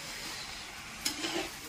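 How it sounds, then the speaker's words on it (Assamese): Banana stem with spices stir-fries in a pan, a soft steady sizzle with a couple of faint scraping strokes near the end, quiet and brief. "ধুনীয়াকৈ ভাজিব লাগিব"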